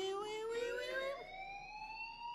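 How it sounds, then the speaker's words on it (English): Fire alarm ringing in the Life Is Strange video game, a loud close rising siren-like electronic tone that sweeps upward and holds steadily, heard alone. "do you hear that fire alarm? That means you should be outside."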